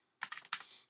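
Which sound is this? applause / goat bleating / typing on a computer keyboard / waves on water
typing on a computer keyboard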